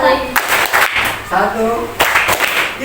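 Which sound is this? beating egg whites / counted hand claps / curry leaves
counted hand claps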